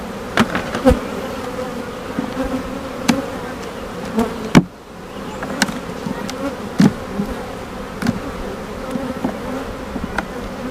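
Honeybees buzz around a backyard beehive, with a steady drone of many insects and individual bees zipping loudly past close by, plus a few faint knocks in the background.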